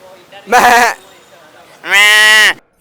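A man imitates a goat with his voice, producing two loud, nasal bleats separated by a short pause, the second longer and steadier than the first.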